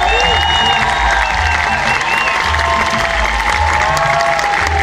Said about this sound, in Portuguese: Uma salva de palmas para os percussionistas da Bahia